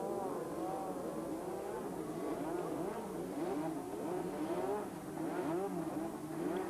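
Formula One race cars roar off the grid at the Belgian Grand Prix at Spa-Francorchamps, many engines revving and rising in pitch together in a dense, loud, continuous wail.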